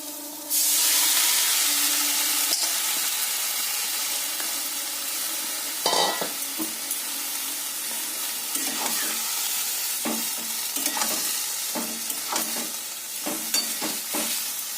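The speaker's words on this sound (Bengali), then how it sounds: "এবার মেথি শাকগুলো দিয়ে দিচ্ছি।" Fenugreek leaves hit a hot pan with a sudden hissing sizzle, followed by steady frying and intermittent scraping stirs with a spatula.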